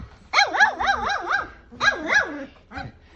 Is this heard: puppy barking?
yes